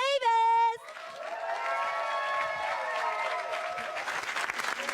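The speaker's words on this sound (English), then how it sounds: "So let's really clap it up." Loud applause from a studio crowd swells right after a brief tone and carries on steadily, with scattered cheers mixed in.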